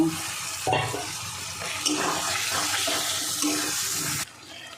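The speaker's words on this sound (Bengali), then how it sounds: "এবার ভেজে রাখা আলুগুলো দিয়ে দেব, দিয়ে আর একটু কষিয়ে নেব।" Fried potatoes tumble into hot spice masala and oil and are stir-fried, giving a loud, close, steady sizzle with scraping stirs that cuts off abruptly near the end.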